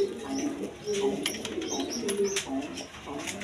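Several pigeons coo close by in soft, repeated throaty calls, overlapping with faint chirps and light rustling, while a voice speaks briefly underneath.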